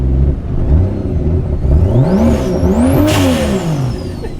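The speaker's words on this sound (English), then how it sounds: "Give it a little rev." A turbocharged 2JZ engine swapped into a Ford Mustang revs several times, loud and close, its pitch sweeping up and down in quick blips with no talking.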